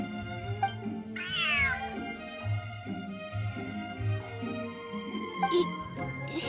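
A cat meows several times in Genshin Impact, including a rising, wavering yowl, set over a soft music bed with small game sound effects.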